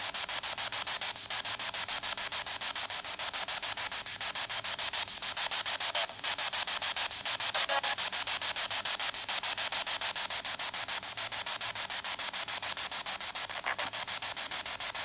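Steady hissing radio static fills the clip, with faint crackles and brief clicks as the tuning sweeps through, continuous and fairly quiet.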